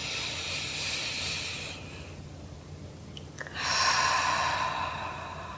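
Deep, slow breathing during a prenatal Pilates session: a long airy exhale, a short pause, then another full breath, close and soft with no speech.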